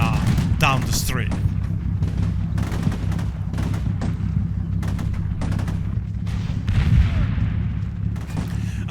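Battlefield gunfire and distant booms in the tactical wargame Combat Mission Shock Force 2, set in a town street fight, rolling steadily across the whole stretch with a voice talking over it.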